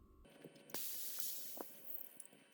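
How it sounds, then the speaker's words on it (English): Air hisses out of a bicycle tube through a Presta valve, a steady broadband rush that starts abruptly and holds for about two seconds, with a few soft clicks from handling the valve. "I'm going to remove the plastic cover and purge the tire of any air"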